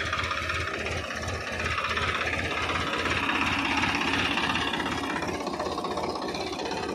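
A diesel engine on a mustard field weeding machine runs steadily, a low rhythmic chugging thump that keeps an even pace, moderately loud and unbroken.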